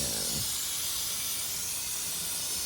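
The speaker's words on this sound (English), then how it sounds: "You know, spritz it up a bit here." Cleaner sprays from an aerosol can during an oil change on a 2008 Jeep Wrangler, one continuous loud close hiss lasting nearly three seconds.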